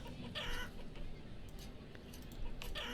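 A chicken in the village-building game Banished clucks a few times in short bursts, set against a steady bed of background game ambience with no talk.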